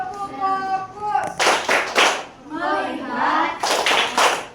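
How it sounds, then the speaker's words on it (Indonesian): Schoolchildren in an Indonesian classroom perform a rhythmic clapping routine, chanting in unison between bursts of quick, patterned claps, with a teacher's voice leading at the start. "Tepuk fokus."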